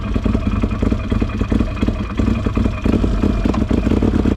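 A Can-Am Outlander 840 ATV engine runs close and loud, a steady mid-pitched throb with a fast rhythmic pulse that holds even for several seconds, no voices over it.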